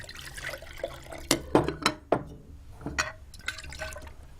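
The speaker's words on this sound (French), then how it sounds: "Et laver le tout avec de l'eau ordinaire, de l'eau du robinet." Glassware, a jar and a plate, is rinsed with ordinary tap water after a chemistry experiment, giving close splashing, pouring and a few sharp glass knocks in short bursts.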